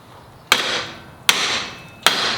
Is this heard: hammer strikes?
yes